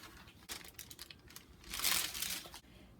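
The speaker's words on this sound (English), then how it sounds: "now we're going to gently remove the wax paper" Wax paper peeled off a freshly baked Southern eight-flavor pound cake, close crinkling and crackling with a louder rustling burst near the end, quiet otherwise.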